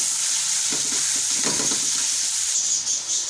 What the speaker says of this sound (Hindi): कीमे का जो है कलर चेंज होने तक जो है मैं इसको अच्छी तरीके से करेंगे फ्राई ऑयल में और प्याज और अदरक लहसुन के अंदर